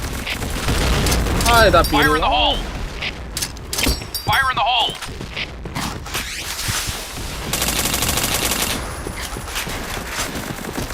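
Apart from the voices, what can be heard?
gunfire in video game Point Blank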